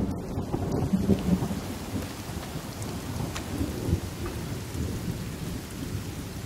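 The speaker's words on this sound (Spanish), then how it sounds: "Ya va a llover," Rain and thunder in the video game The Forest: a dense, steady downpour hiss with low rolling thunder rumbling underneath, fairly loud and continuous, with no voices.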